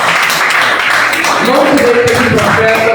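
Loud, continuous clapping from a church congregation during an evening worship campaign service, close and dense, with voices rising over the applause toward the end.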